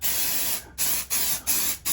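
Ease Release 200 mold release sprayed from an aerosol can onto a mold in four hissing bursts of varying length with short gaps, loud and close, with no talking.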